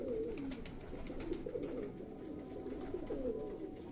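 Pigeon of Ustad Shabbir's breed, kept by a rooftop fancier, giving a steady low coo that repeats in soft rising phrases, fairly near, over faint background noise.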